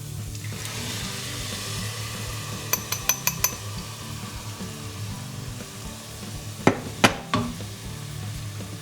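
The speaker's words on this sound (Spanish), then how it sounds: "Subimos el fuego y añadimos los tomates." Tomatoes hitting a hot pan for a vegan green bean curry, a steady close sizzle and frying hiss with several sharp clinks of a utensil against the pan in two quick clusters.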